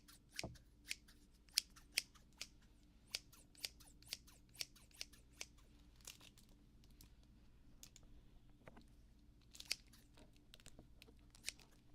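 Scissors snip through card packs, a steady series of crisp, close, quiet cuts spaced about half a second apart against a hushed room.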